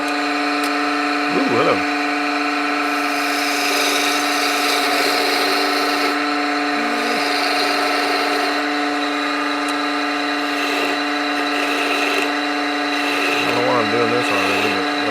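A spindle gouge shapes a spinning maple blank on a wood lathe, producing a steady close scraping hiss with a constant motor hum underneath, while a voice briefly speaks in the background.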